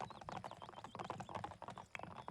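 Rapid, overlapping hoof clip-clops as several horses trot together in The Sims 4, a busy steady patter with faint background sounds.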